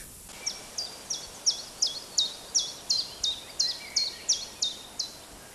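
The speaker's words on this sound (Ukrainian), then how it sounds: "кує хтось тінь тінь тінь тянь тінь тінь тінь тянь Це вівчарик-ковалик" A common chiffchaff sings its song, a series of about a dozen evenly spaced high, bright chirps repeated in a steady rhythm, clear and fairly near over quiet background hiss.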